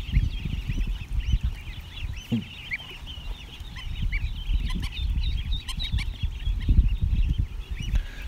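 A goose honks repeatedly amid a chattering crowd of ducklings, the calls fairly close and overlapping with steady rustling and low background noise.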